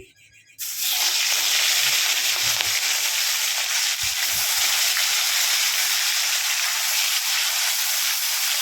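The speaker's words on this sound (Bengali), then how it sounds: "চলো মাছগুলো চটাপট করে ভেজে নিই।" Fish fries in hot oil in a wok, starting with a sudden loud burst of sizzle after a brief quiet moment, then a steady, dense, close hiss that continues without a break to the end, with a few faint knocks underneath.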